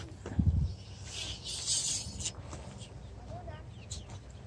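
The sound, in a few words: chicks outdoors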